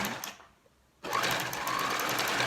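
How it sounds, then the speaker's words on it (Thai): Sewing machine stitching the straps of a spaghetti-strap top, a steady loud mechanical whir that starts abruptly after a short quiet pause and runs continuously to the end. "ต่อไปก็มาเย็บสายเสื้อกันนะคะ เย็บ2เซนติเมตรค่ะ"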